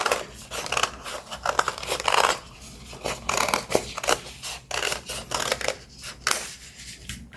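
Scissors snipping through paper while cutting out a Christmas pop-up card, a close run of crisp, rapid cuts with short pauses, some blades closing in quick bursts and others slower, with no voices.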